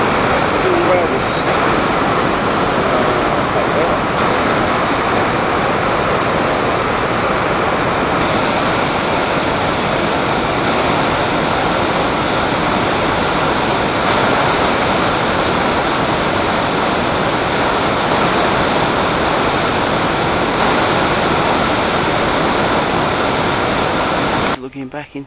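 A river waterfall on a Dales walk roars as water leaps the falls, a loud, steady, all-enveloping rush that runs unbroken before cutting off at the end.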